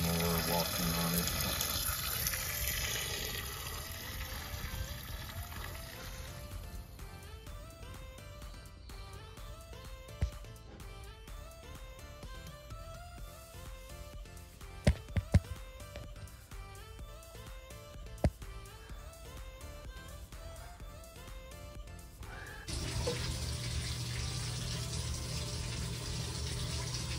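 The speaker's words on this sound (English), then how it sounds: "this is spraying out constantly" Water sprays steadily from a leaking pipe, a broad hiss at the start and end with quieter stretches between and a few sharp clicks.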